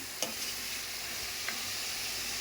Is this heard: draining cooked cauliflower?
no